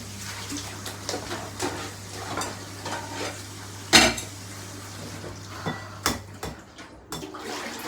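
Dishes being washed during home baking of a Basque cheesecake: clinking cutlery and pots, with one sharp clatter partway through and scattered knocks, set over a steady low hum, no voices.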